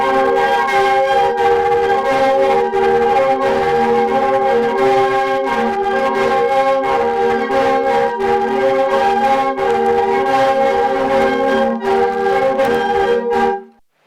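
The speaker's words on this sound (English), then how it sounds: "Here, we are welcomed by the sound of the lu sheng." Lusheng reed pipes played together in the Miao village of Basha, sounding as a dense, loud, sustained chord of reedy tones that pulse steadily for about thirteen seconds and then stop abruptly.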